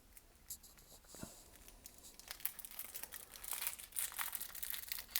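A pack of 2025 Caitlin Clark Chronicled trading cards is torn open, its foil wrapper crinkling and crackling close by, growing louder and busier toward the end, with no speech.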